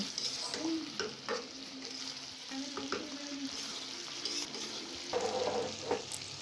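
Green chillies being stirred with garlic paste in hot frying oil for a green chili pickle, giving a steady soft sizzle with scraping spoon strokes and a brief louder burst of frying near the end, no talking.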